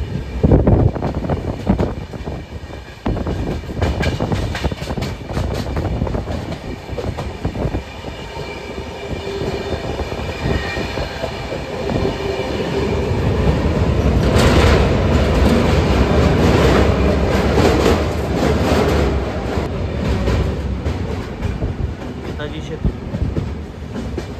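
A long, steady rumble of the 13147 Uttarbanga Express rolling on its rails on a foggy winter run near New Farakka Junction, with rhythmic wheel clatter that builds and swells midway, heard close from inside the coach.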